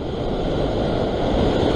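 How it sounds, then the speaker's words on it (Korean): Ocean surf curling and breaking on a rocky Sydney shore during rock fishing, a continuous loud rushing wash of water with wind buffeting the microphone, close and unbroken. "말리는 파도"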